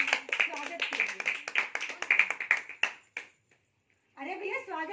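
Audience clapping in welcome at a women's empowerment program, a run of sharp hand claps for about three seconds that fades into a pause, followed by someone speaking.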